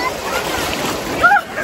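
Sea waves wash onto the beach at Puri, a close, continuous rush of surf and swirling water with a brief splash, while voices talk excitedly over it.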